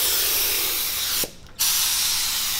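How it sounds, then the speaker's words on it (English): A spray gun hisses steadily as it applies activator onto a hydrographics part, a continuous close, loud spray that cuts out briefly for a fraction of a second before resuming. "and spray it like that"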